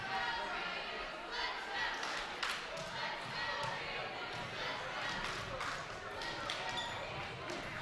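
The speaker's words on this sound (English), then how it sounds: "We have a big crowd out here tonight." A big crowd fills a school gym during a high school basketball game, a continuous murmur with basketballs bouncing and sneakers thumping on the court, while a voice talks over it nearby.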